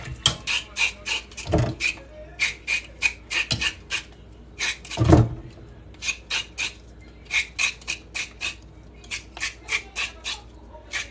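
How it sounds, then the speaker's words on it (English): A carrot is scraped with a knife in a home kitchen, giving a steady run of short raspy strokes in quick rhythmic bursts, close and fairly clear, with a few louder knocks between. "you cut your carrot and you scrape it"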